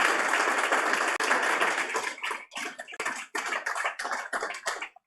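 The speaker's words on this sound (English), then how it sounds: "a big round of applause please" An audience at an Australian fintech awards ceremony applauds, a dense burst of many hands clapping that thins into scattered, uneven claps toward the end.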